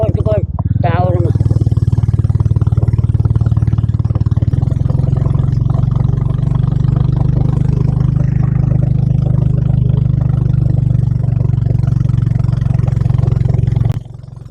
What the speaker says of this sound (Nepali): मोटरसाइकलमा दौडेको छ